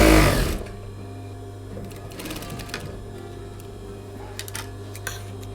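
A sewing machine stitches around the sleeves of a man's shirt being made into a halter-neck dress. A loud start gives way to a steady, close mechanical whir, with small clicks over the constant hum.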